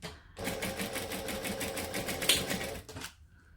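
Sewing machine running a short seam about an eighth of an inch from the fabric edge, a rapid, even run of mechanical needle clicks for roughly two and a half seconds, close by, starting and stopping abruptly.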